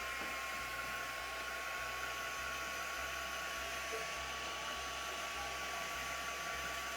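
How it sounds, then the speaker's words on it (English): A heat gun blows a steady, even whoosh with a faint whine while drying paint on a fantasy moonlit pond craft piece, close and unbroken. "Let's grab our heat gun and just give it a bit of a dry."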